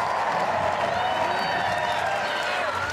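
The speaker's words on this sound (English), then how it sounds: "Listen to the crowd." A big stadium crowd at a University of Oregon track meet applauds and cheers in a steady, dense roar. The wash of clapping and voices holds for the full three seconds without any single voice standing out.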